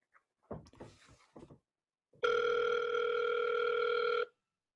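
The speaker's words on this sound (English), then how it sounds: "John takes out his phone and calls Sean" A phone call is placed: a few brief soft taps, then a loud steady ringing tone lasting about two seconds, close and alone.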